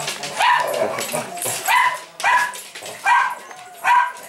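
A dog at a grooming salon gives about five sharp yips and whimpers at roughly one-second intervals, close and fairly loud, with human voices around it.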